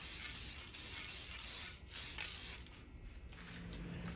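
Rattle-can spray paint applied to a 1967 Pontiac Firebird 400, a series of short, close hissing bursts in a quick pulsing rhythm, followed by a steadier, fainter hiss.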